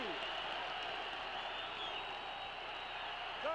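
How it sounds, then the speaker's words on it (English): A stadium crowd at Lambeau Field during an NFL game between the Vikings and Packers roars steadily and broadly, a sustained distant wash of cheering with no break. "listen to the crowd. They're on their feet here at Lambeau Field"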